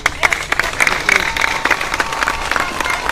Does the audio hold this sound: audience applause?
yes